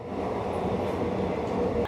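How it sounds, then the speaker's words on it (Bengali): A train pulling into a station rumbles continuously with a steady low mechanical roar and faint rattling, sounding close and fairly loud. "আমাদের ট্রেন ঢুকছে"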